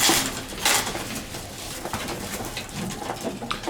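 Racing pigeons coo in low, soft bursts at close range, with a few light clinks of dishes or cutlery in the background.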